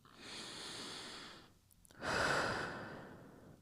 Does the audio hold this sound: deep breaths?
yes